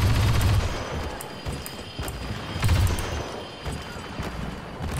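A heavy gun firing at full charge in Star Wars Battlefront, with booming low-end blasts near the start and again midway, separated by a rapid crackle of weapon fire in a busy battle.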